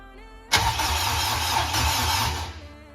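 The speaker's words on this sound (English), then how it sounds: "So the Civic turns over for the first time with a new engine and setup" A Honda Civic swapped from its 1.5L to a 2.4L K-series VTEC engine fires up abruptly after a brief quiet moment, then keeps running loud and steady with a rough, lumpy low rumble.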